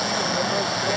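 A helicopter flies low over snow at a motorcycle parade start at the Baikal Mile event, a steady, loud rotor and engine roar filling the short moment without pause.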